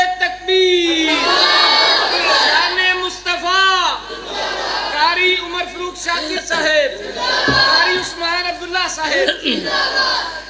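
A large crowd at a religious gathering loudly chants the Nara-e-Takbir slogan in repeated call-and-response bursts, voices close and overlapping with shouting.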